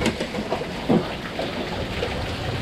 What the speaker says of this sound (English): Sitting out here, hiding out from the bloody storm and the rain.